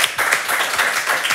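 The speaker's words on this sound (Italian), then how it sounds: "facciamo un applauso a Fabio Tarallo" Studio audience applauds a guest on an Italian football talk show, a dense, steady wash of clapping hands lasting a moment with no voices over it.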